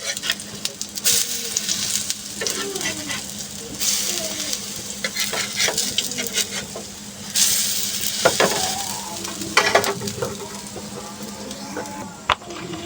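Taro-leaf and lentil fritters bound with gram flour sizzle steadily in hot oil in a pan. Spatula scrapes and clatters come and go as they are stirred and turned.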